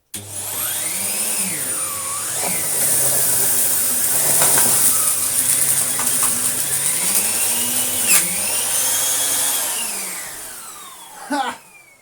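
A refurbished Numatic Henry 160 vacuum cleaner sucks up sawdust with a loud, continuous motor roar whose pitch rises and dips as the nozzle moves, then cuts off near the end.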